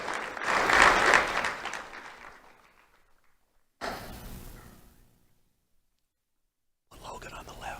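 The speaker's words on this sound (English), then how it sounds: "A round of applause for Logan and Fabian." School audience applauds for two student honorees at an awards event, a loud burst of clapping that fades, then a shorter second round and a third beginning at the end, with some murmuring.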